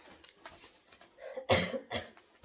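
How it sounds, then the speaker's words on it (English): A woman coughs in a dusty room, with scattered faint throat sounds followed by three sharp, close coughs near the end and no speech. "so I keep coughing"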